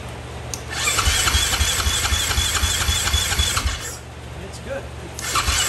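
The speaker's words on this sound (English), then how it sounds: "And turning the bike on." A 2016 KTM 500 EXC motorcycle with a new fuel pump being cranked by its electric starter, a close loud whirring cranking with a rhythmic low pulse that pauses and resumes, with a person talking over it.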